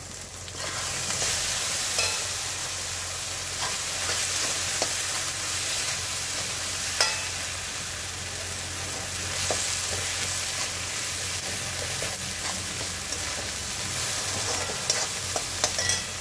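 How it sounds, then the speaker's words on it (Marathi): Soaked puffed rice (murmura) is stir-fried with cooked tomatoes in a pan, giving a steady close-up sizzle with soft scraping stirs throughout. "हे भिजवलेले मुरमुरे टाकून द्यायचे आहे. आणि त्याला छान परतून घ्यायचं आहे."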